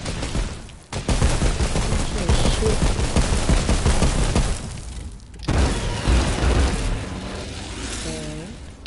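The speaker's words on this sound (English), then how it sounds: "I heard gunshots." Bursts of rapid gunfire and explosive booms from a battle video game played solo, loud and dense, with a brief pause before more shooting resumes.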